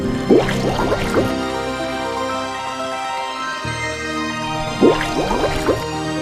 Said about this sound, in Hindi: यह कहकर वरुण देव ने पानी में डुबकी लगाई